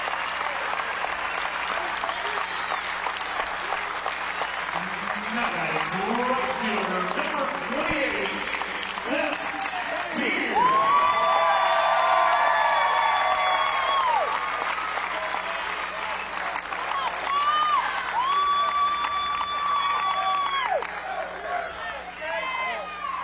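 Clemson home crowd at a 2018 NCAA regional final baseball game against Vanderbilt, applauding and cheering steadily throughout, with a sustained roar and whistles rising midway, under an announcer talking.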